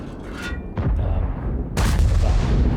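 Heavy tank guns boom in World of Tanks, an Object 277 against an IS-7, with two deep, loud blasts and rumbling battle noise between them.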